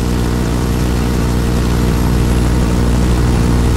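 A helicopter arrives in a video game, its steady, loud low engine and rotor drone holding evenly throughout with no speech.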